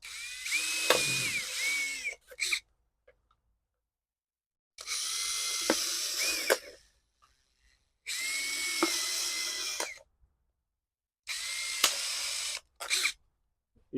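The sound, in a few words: drilling small holes for planting cucumbers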